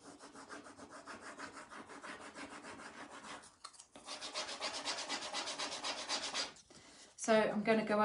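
Rough rubbing back and forth over a painted surface, a steady scratchy stroking that turns denser and louder midway, with brief pauses and a sharper rasp near the end.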